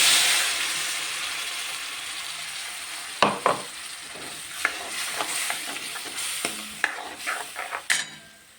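Ground paste hits frying green chickpeas in a pan with turmeric, first a loud fading sizzle, then repeated scraping and knocking stirs of a spoon against the pan over a softer frying hiss.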